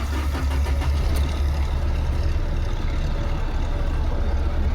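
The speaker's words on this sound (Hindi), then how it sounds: "होगी गाड़ी स्टार्ट" A Maruti Dzire sits running after its engine is started, giving a steady, close, low idle rumble with a brief rise near the start and no talking over it.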